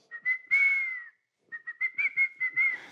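A person whistles a bright, wavering tune alone, starting with a few short notes and a longer held one, then after a brief pause continuing with a run of quick chirpy notes, close and clear.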